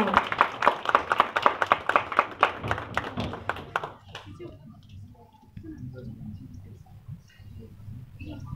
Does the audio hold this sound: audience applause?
yes